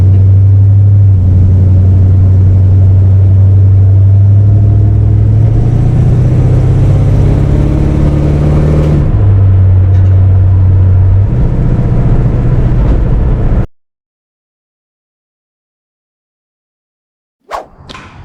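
A 1955 Plymouth fitted with a 318 Magnum V8 and overdrive drives along, its loud steady engine drone and road rumble shifting pitch as it accelerates, then cutting to silence before a brief noise at the end.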